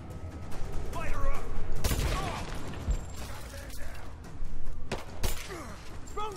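Gunfire in Rise of the Tomb Raider, heard as a couple of sharp, loud shots and some scattered bursts over a busy game soundscape, with voices shouting and talking in between.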